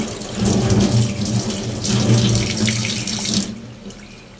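Tap water runs steadily into a sink as fish is rinsed, a close, continuous splashing rush that thins out near the end.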